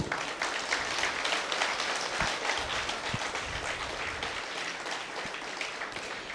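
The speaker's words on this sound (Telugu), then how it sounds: "Big claps." Audience applause at a spiritual day celebration in a hall, a steady wash of many hands clapping that holds evenly for several seconds with no voices over it.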